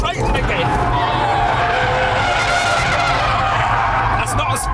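An Audi R8 or Citroën C4 sliding sideways through a half spin, tyres squealing loudly and continuously over a roaring engine, with excited voices talking over it.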